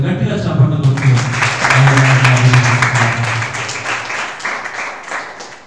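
A church congregation at a fasting prayer meeting claps loudly together, a dense run of hand claps rising then fading, heard under and around a voice speaking and singing.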